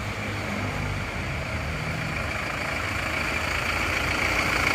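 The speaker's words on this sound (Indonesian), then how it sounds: "Jadi suara mesinnya turbo seperti ini." Isuzu Panther turbo diesel engine idling steadily at close range, a continuous low rumble with a constant even hum and no talk over it.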